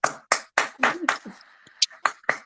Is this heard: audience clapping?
yes